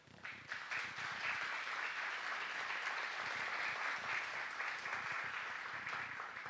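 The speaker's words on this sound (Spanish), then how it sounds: "para quien pido un aplauso." Audience applause at the opening of a human rights forum in Honduras, welcoming the European Union ambassador. A dense, steady roll of clapping from a large crowd holds at even loudness for the full length, with no pauses.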